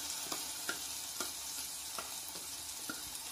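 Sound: sautéing sizzle, then tomato tamarind paste added to pan

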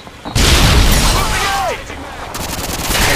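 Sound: grenade explosion in the video game Modern Warfare 2

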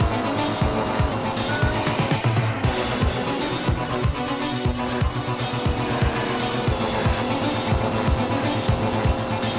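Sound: car turbo boost driving in Knight Rider 2 video game

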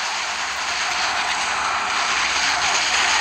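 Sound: drone flying in video game Dead Target

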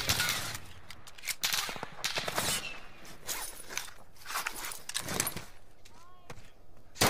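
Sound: gunfire from the video game Call of Duty Warzone

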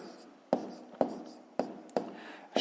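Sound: writing with a pen on paper

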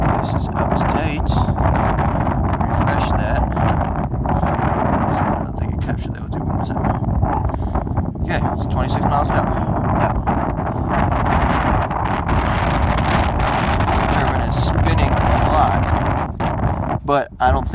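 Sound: strong wind around a vertical wind turbine

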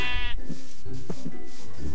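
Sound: sheep bleating in a video game

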